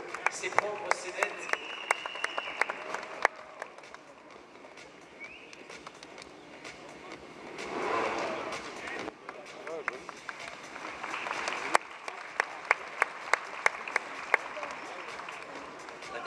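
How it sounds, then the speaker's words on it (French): Spectators at a trial competition clap in scattered, moderate bursts while a commentator talks over them, with sharp distinct claps standing out against a quiet outdoor background. "Oui, vous pouvez applaudir bien sûr parce que c'est propre, c'est net."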